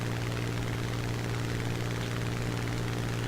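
Spitfire Mk I engine drone in War Thunder, a steady, continuous low propeller hum with a strong fundamental tone and broadband wind noise, unchanging and close throughout.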